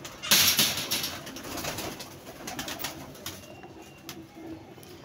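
Pigeons at a rooftop loft, soft cooing mixed with a burst of wing flaps near the start, close and fairly quiet, with a few sharp rustles and clicks following, no voices.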